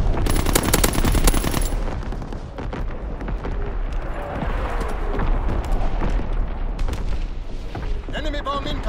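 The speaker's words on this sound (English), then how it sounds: "Incoming enemy artillery. Get to cover." Incoming enemy artillery pounds a WW2 video game battlefield. Loud, continuous rattling gunfire and heavy booms crowd together throughout.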